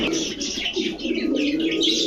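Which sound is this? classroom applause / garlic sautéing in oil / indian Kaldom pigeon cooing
indian Kaldom pigeon cooing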